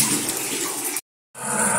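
Water drains from a sink after the plug is pulled, a steady gurgling, rushing flow close by, briefly cut off and then resuming.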